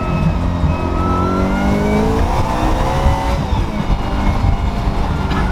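A supercharged car accelerates hard at Columbia Historic Speedway, an old disused NASCAR track, its engine roaring loud and close with a rising whine that climbs steadily through the whole stretch.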